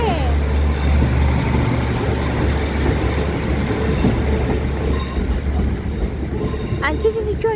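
An LNER train pulls away from a station toward Hexham, a loud continuous rumble of wheels and carriages with metallic squeals rising near the end, close by and with no talk over it.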